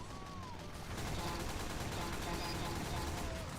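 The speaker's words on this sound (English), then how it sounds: "Never underestimate the SMG, people." Rapid SMG gunfire in a video game, a dense continuous burst of shots close up, mixed with game noise and a voice talking over it.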